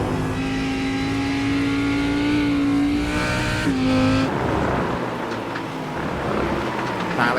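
A GT3 race car on a wet Circuit of the Americas in a sim racing game, sliding with little grip: a loud, steady engine drone with shifting pitch and a sharp gear change, then a rougher, noisier wash as it slithers along.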